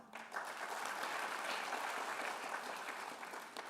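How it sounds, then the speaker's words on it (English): Audience at a chancellor investiture ceremony applauding the named trustees, a broad, even roar of clapping that swells in quickly and holds steady, heard from a distance in a large hall. "Let's give them all a round of applause"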